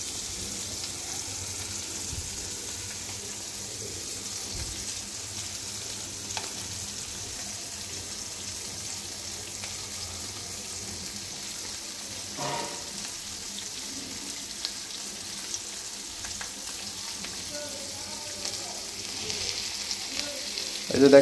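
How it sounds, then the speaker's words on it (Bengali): Small puti fish frying in a little oil on an uncoated tawa, a soft, steady sizzle that runs quietly for about twenty seconds, broken by occasional faint clinks and with no speech. "তেল ছাড়া তো আর মাছ ভাজা করা যাবে না"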